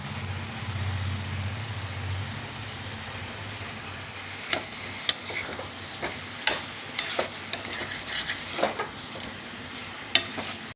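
Prawns, potato and taro sautéing together in a pan, with a continuous close sizzle under a low hum and repeated sharp scrapes and clinks of a utensil stirring against the pan.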